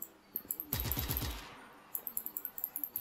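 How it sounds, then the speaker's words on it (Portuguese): Automatic machine gun fire in Just Cause 3, a dense rapid burst of shots after a few isolated single shots, then a steady run of evenly spaced reports, loud and close with no talking. "Vamos ver se a metralhadora não esquenta ainda, né?"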